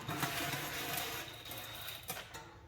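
Bolts on a Chevrolet Silverado transmission pan being run in lightly by hand tool, a steady close rattling whir with short ratcheting bursts, no talking.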